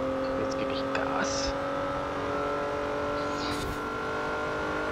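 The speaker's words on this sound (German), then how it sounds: "Jetzt gebe ich Gas." An Opel Insignia A OPC in a driving video game drones with a steady engine note as it accelerates, the sound continuous and fairly quiet, while someone talks over it.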